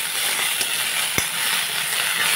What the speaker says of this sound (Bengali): শুকনো লঙ্কাটাকে আমি একটু ভালো করে ভেজে নেব।